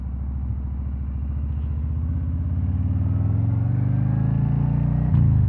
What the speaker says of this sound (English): About to hop on the highway on the Street Glide Special, baby.